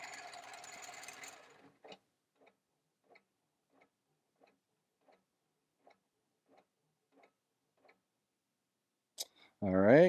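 A Pro-Stitcher quilting machine stitching a quilt gives a brief burst of running, then a slow, even series of faint single ticks before a voice speaks at the end.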